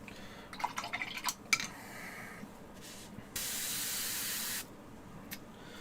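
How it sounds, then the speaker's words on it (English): An airbrush sprays metallic paint in a steady hiss lasting about a second, preceded by scattered clicks, short bursts and handling noises, with a faint spurt near the end. "I've never put the metallics through the airbrush before"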